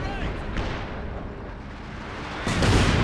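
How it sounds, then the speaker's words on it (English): Artillery barrage from three Scott self-propelled guns in Company of Heroes 2, a dense rumbling wash of distant booms that swells louder near the end, with no clear separate blasts. "Triple Scott Barrage halts the capping in the center of the axis"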